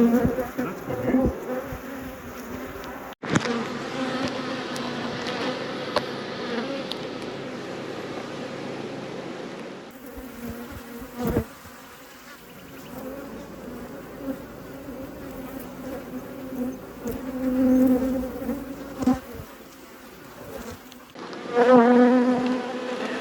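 Honey bees swarm and buzz around an open beehive, a dense, continuous hum that swells and fades as they fly close, broken by a few soft knocks and rustles of the hive being handled.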